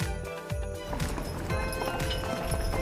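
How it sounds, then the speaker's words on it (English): Hooves of a horse pulling a carriage clip-clop in a steady rhythmic gait, fairly loud and close, with no voices over them. "This is a carriage."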